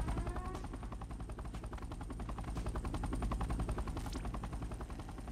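Anti-aircraft turrets firing in a base-building video game, as rapid, continuous automatic bursts that stay loud and dense throughout with a low rumbling underlayer.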